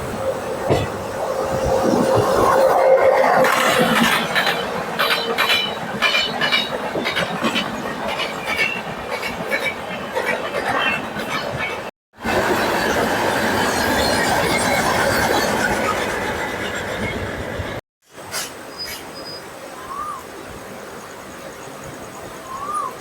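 The Thiruvananthapuram North Raptisagar Superfast train crosses through small Kaveri station, a long loud passage of rolling wheels and rhythmic clickety-clack with occasional squealing, fading toward the end.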